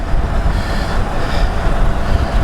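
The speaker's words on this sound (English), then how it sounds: "it's so windy, everything is flapping everywhere" Steady, loud wind buffeting outdoors with a constant rumbling roar and things flapping everywhere, no voices.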